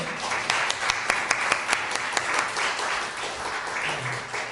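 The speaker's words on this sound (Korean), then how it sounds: "잘 오셨다고 박수 한번 쳐줄까요?" A church congregation in a Korean service claps in welcome, a steady wash of applause with a few sharper nearby claps standing out, tapering off at the end.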